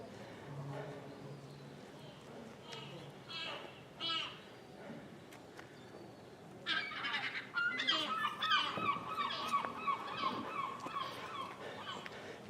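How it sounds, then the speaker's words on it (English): A seagull calls out in a series of loud, harsh squawks outdoors in Scotland, rising suddenly after a quieter stretch with a few faint calls and a voice. "A seagull with a Scottish accent."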